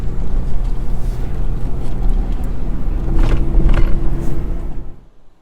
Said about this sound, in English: we really enjoy this amazing drive here through the forest at Central Oregon